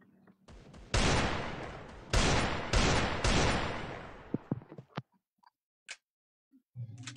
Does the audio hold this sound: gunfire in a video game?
yes